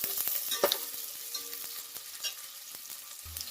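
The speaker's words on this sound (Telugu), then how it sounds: "ఇప్పుడు ఇందులో ఆనియన్ కూడా వేసేసుకుందామండి. ఒకసారి బాగా కలిపేసుకుందాము." Sliced onions with salt being stirred and fried in a pan for chicken biryani, a steady soft sizzle with scattered scraping clicks of the spoon, close and without talk.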